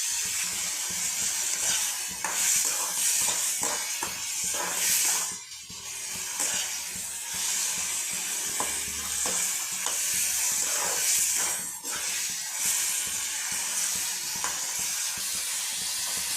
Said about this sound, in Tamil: இந்த வதங்கிட்டு இருக்கு ஃப்ரெண்ட்ஸ் இன்னும் கொஞ்சம் வதங்கட்டும்